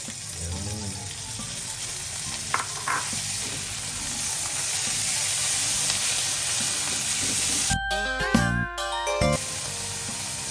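Bagoong alamang shrimp paste fries in a pan with a steady, close sizzle throughout, and a brief clatter of a utensil near the end.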